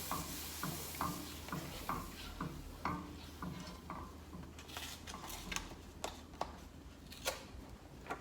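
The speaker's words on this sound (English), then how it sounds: "you want to stir it" Half and half and heavy whipping cream being stirred into potatoes with a spoon, giving a series of soft wet scrapes and clinks against the dish in an uneven rhythm, close and fairly quiet with no talking.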